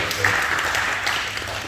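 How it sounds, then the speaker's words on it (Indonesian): Brief burst of applause from a church congregation during a Sunday worship service, a dense clapping wash under a faint murmur of voices. "Kita beri tepuk tangan sekali lagi buat Tuhan."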